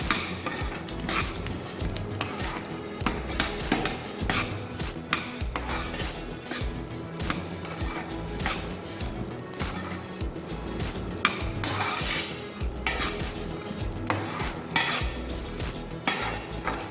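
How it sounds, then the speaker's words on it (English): Sesame seeds and peanuts sautéing in a pan, a steady close sizzle broken by frequent scraping stirs and light clinks of a spoon against metal, with no talk. "I'm going to saute the sesame seeds."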